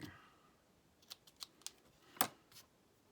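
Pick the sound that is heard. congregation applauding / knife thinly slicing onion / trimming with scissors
trimming with scissors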